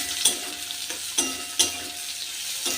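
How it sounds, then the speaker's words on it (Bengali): Sliced onions frying in hot oil in a wok after garlic for a magur catfish curry, with a soft continuous sizzle and three distinct scraping stirs of a spatula at close range, no voices. "পেঁয়াজ দিয়ে দিলাম"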